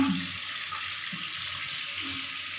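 Tap water running steadily into a sink while herbal soap is rinsed off, a continuous close hiss and splash with no talking.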